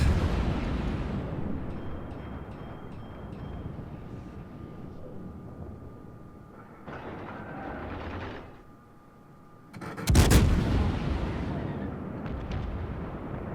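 Cruiser guns in the naval combat game World of Warships fire on a battleship, with ongoing rumbling battle noise, engine drone, a sudden loud blast near the end, and faint talk in places.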